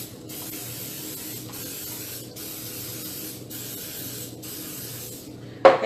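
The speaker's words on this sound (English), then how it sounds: "we're gonna spray these also really well" A spray bottle mists gluten-free oat challah dough with water in a long series of close, steady hissing sprays separated by brief pauses. A sharp knock sounds at the very end.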